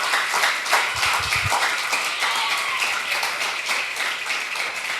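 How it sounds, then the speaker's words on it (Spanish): A congregation at a family-altar church gathering applauds, dense steady clapping that fills the room, with a brief low thump near the start. "Dele un aplauso al Señor"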